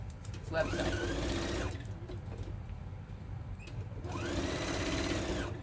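A sewing machine stitches a sewing mat in two bursts of fast, even whirring, close by, with a quieter pause between them.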